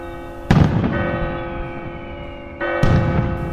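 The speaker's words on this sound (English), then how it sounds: "Tina and Peter sat opposite the clock to listen to the bells chiming 6 o'clock." The Big Ben clock tower bells in London chime six o'clock, two loud bell strikes ringing out with long sustained tones that decay between them.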